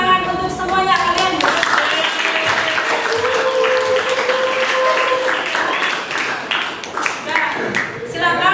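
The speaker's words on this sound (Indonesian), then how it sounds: "Tepuk tangan untuk semuanya kalian" A secondary school class claps together at the end of an Indonesian language lesson, loud and close, with voices and some tonal sound mixed over the steady clapping.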